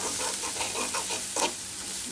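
Chili and coriander powder masala frying in a pan for a loitta fish bhuna, stirred with steady scraping strokes over a constant close sizzle, with one louder scrape near the end.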